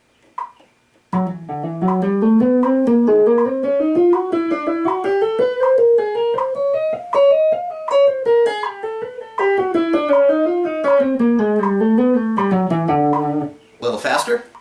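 A right-hand dexterity exercise played as a steady stream of fast picked 16th notes, rising and falling in pitch against a metronome, close and clear, with no talking.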